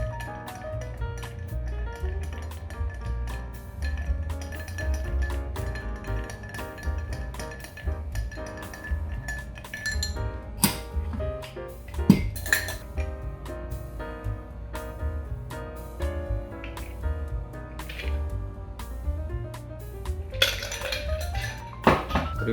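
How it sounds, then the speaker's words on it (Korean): An Old Fashioned cocktail is stirred with ice in a glass: repeated close clinks and rattles of ice against glass and a bar spoon, in an uneven rhythm, with occasional sharper knocks and no talking. "그 다음에 스터"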